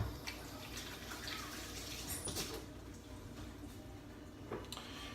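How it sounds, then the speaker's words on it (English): Tap water running as hands are washed at a kitchen sink, a continuous close splashing rush with small drips and knocks, no talking. "Wash my hands so you won't catch any sicknesses from raw eggs."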